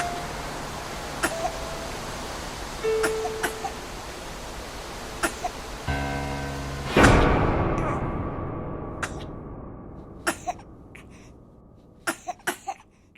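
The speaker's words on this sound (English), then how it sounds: "She started coughing and choking." A woman coughs and chokes in The Cat Lady, with sharp isolated coughs scattered across the clip over a background hiss and a sudden loud burst near the middle.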